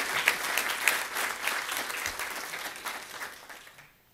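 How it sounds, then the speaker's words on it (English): A room of attendees at a Fayetteville city council meeting applauds students, brisk continuous clapping with crisp individual hits that fades out to near silence at the close. "Let's give them another round of applause."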